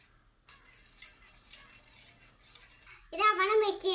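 A spoon mixes in a bowl with light, repeated clinks and scrapes. Near the end the stirring grows louder and a voice speaks over it.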